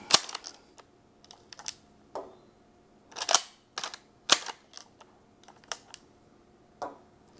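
Cartridges being worked out of an Adler 110 lever action shotgun, a sequence of sharp metallic clicks and clacks at irregular intervals, close and distinct against quiet between them.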